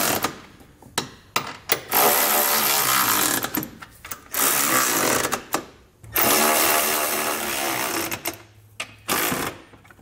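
An 11/16 socket on a power tool snugs down Curt trailer hitch bolts on a 2021 Kia Sportage, with several loud, sustained whirring bursts broken by short gaps, clicks and rattles.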